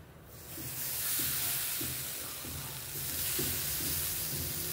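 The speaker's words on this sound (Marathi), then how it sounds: "थोडं आता आपण वरून दूध शिंपडणार आहे असं." Milk splashed over mixed flours roasting in a pan for panchpith laddu sets off a steady hissing sizzle, close and fairly soft, with faint stirring scrapes pulsing underneath.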